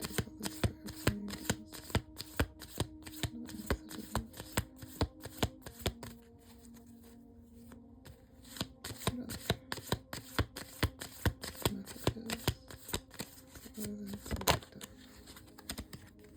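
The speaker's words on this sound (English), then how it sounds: "Okay, I'm going to do the Soul Whispers cards." Soul Whispers oracle cards being shuffled in a steady, rapid riffle of soft flicks and taps, close and quiet, carrying on for a long stretch with no talk over it.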